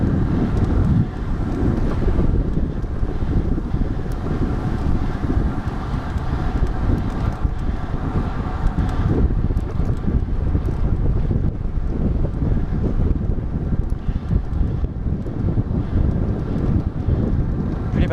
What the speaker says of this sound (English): Bad headwind up here.